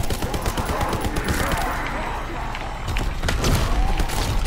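Rapid bursts of gunfire while shooting zombies in the Call of Duty: WWII zombie mode video game, loud dense volleys with booms that briefly ease and then return.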